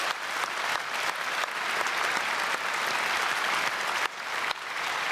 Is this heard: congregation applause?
yes